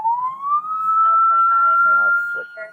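An emergency siren sounds from a control panel inside a fake police officer's truck, a single rising wail that climbs and holds steady, close and clear, with brief chirps near the end.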